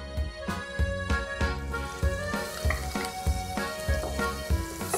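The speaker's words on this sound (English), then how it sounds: "Sauté the onions." Onions sautéing in olive oil and melted butter for mushroom risotto, a steady close sizzle with regular knocks and scrapes of a spoon against the pan, no talking.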